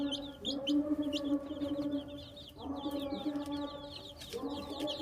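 Young desi chicks cluck and peep continuously while being given Ranikhet disease vaccine as eye drops, with higher chirps overlapping the steady close clucking throughout.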